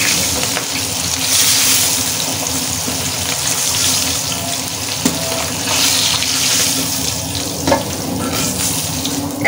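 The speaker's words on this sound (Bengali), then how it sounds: "এখন এই তেলের মধ্যে আলুগুলোকে ভালো করে ভেজে নেব।" Potatoes frying in hot oil in a home kitchen, heard as a loud, steady hiss and sizzle with a few sharp crackles and pops, close up and without talk.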